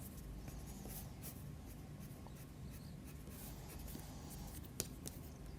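Derwent watercolour pencil in blue shading big shadows across paper for a quick sketch, a steady soft scratchy rasp running continuously and close, with a couple of slightly sharper strokes near the end.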